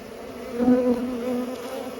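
Honey bees buzz densely around a hive frame during a spring disease inspection, a close, steady drone that swells briefly and continues without talk.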